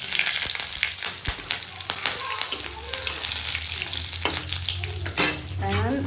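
Green and red chillies fry in oil with cumin and bay leaf, giving a steady close sizzle with scattered pops and stirring scrapes for a few seconds, and no voices.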